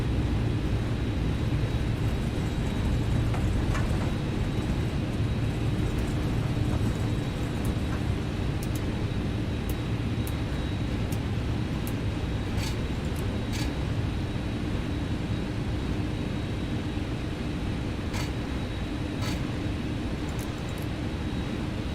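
An MD-11 airliner taxiing to a cargo ramp in the X-Plane 11 flight simulator, a steady low engine rumble and whine holding constant for the whole stretch, with faint scattered clicks on top and no voices.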